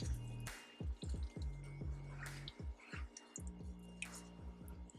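A spoon stirs tomato meat sauce thinned with water in a pan, producing soft, wet squelches and sloshing drips in irregular bursts, close and quiet.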